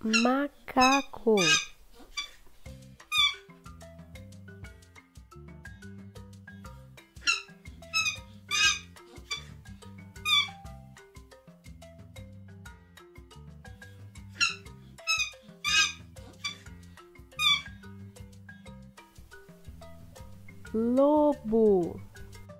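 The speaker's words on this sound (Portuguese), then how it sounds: "macaco." Monkey calls: repeated sharp, high chattering shrieks in quick bursts, separated by short pauses, loud and close, with a lower hum running beneath and a final wavering cry at the end.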